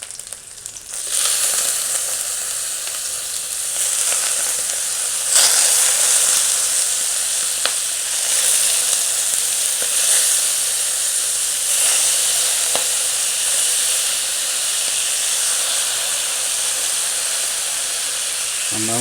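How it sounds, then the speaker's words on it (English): Shrimp dropped into a hot pan for baked shrimp with glass noodles, a loud, steady close sizzle that holds for the whole stretch, with a few faint clicks of utensils. "now I'm going to put in the shrimp"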